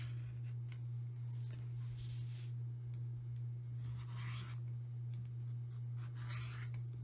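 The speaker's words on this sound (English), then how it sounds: "Set that square aside, reposition the template on the next intersection of seams, and continue cutting" Scissors cut quilt fabric around a patchwork template in three short crisp snipping bursts, close and clear, over a steady low electrical hum.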